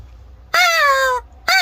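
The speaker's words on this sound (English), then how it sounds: "It's the Crow of Doom." A crow caws loudly and close by: one long drawn-out caw, a short pause, then the start of a second caw that is cut off at the end. The call stands alone with no talking.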